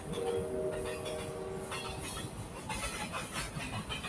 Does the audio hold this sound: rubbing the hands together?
no